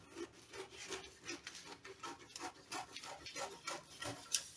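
Scissors cut through fabric for a cold-shoulder sleeve, a quiet close crisp rasping snip repeated in a quick uneven rhythm, with no voices.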